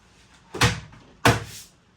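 Two solid thuds of the doors of a Philips Perfect Draft beer dispenser shutting, close by, about three quarters of a second apart, in an otherwise quiet room.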